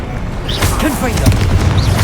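Confringo blasting spell going off in the wizarding video game Hogwarts Legacy, a loud booming blast over a busy, noisy battle with sparkling whooshes and rumble underneath.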